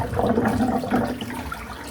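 Water draining into a clogged sink in a bathroom, a close, steady gurgling rush with mild bubbling that carries on throughout without any talking.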